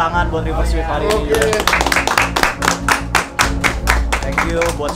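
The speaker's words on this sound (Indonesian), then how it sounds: "Sebelumnya tepuk tangan buat River Sweet hari ini." A crowd claps and applauds in a dense burst of hand claps, loud and close, with voices mixed in underneath, at an MPL Indonesia esports event.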